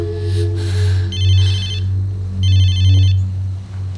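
A telephone rings in repeated electronic trilling bursts over a steady low hum, loud and close, with no talking.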